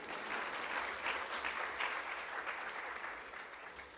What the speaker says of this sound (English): I feel like y'all should clap on that one